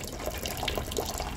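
Water is pushed out of a Joji 3-liter thermos by its hand pump. A faint, steady trickle of water splashes into a container, close by, with a few small gurgles and no talking.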